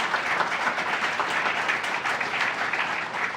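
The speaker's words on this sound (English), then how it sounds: "So let's give Governor Hochul another round of applause and thank her for her commitment." Audience applause rings out in honor of Governor Hochul at the grand opening of Constellation Brands' new headquarters, a dense, steady wash of many clapping hands held at an even level throughout.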